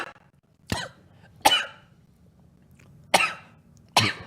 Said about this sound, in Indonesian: Minum dulu. jadi batuk.